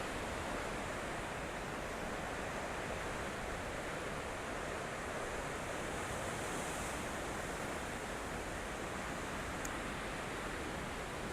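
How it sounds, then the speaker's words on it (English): Ocean waves roll in at Mt Maunganui, New Zealand, a steady wash of surf heard at moderate distance with a soft wind hiss and no one speaking. "The waves coming in like that."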